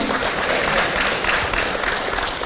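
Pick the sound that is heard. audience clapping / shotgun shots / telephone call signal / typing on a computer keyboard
audience clapping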